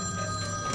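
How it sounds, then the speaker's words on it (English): A telephone rings inside a police traffic car during a roadside stop, a short steady electronic ring with no talk over it. "Your boss man's ringing you."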